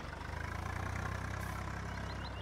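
A 5911 desi tractor idles in Farming Simulator 19, its engine giving a steady low throbbing chug that holds evenly throughout with no talk.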